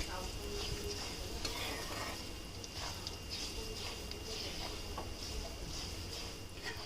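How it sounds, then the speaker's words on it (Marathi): Fennel and sesame seeds roast in a pan of oil for poha chiwda, giving a soft steady sizzle with light scraping and stirring taps against the pan, quiet and close. "थोडा वेळ परतून घेणार आहोत आपण म्हणजे बडीशेप कच्ची राहायला नको बडीशेप तीळ"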